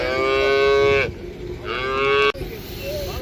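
A cow moos loudly and close by at a livestock market in Uzynagash, Almaty, two long drawn-out lows with a short gap between them.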